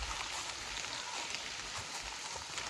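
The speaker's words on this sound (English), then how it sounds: "not be as wet, but it is like no chance, I think, of stopping raining today." Rain on the Appalachian Trail, a soft, steady hiss of falling drops that stays even and quiet without a break.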